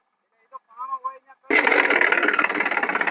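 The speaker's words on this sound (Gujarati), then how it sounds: "આ બીજું ટ્રેક્ટર ચાલુ કરી દીધું છે" A few words of talk, then a tractor engine abruptly roars to life and keeps running loudly with a rough, chugging throb, on a farm with a manure-spreading cart.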